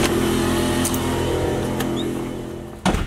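A small adventure bus engine drones loudly and steadily from inside the vehicle while it is driven, easing off toward the end before a brief thump, with no talking.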